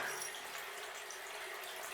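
Spring water flows steadily into a small hidden stone nook in the Smoky Mountains and drains out, a continuous soft rushing trickle, fairly quiet and unbroken, with no voices.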